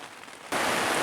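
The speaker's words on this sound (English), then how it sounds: "It's raining again tonight." Rain pours down at night over a campsite during a deer hunt, starting faint and then suddenly swelling into a loud, steady, dense hiss of drops on surfaces.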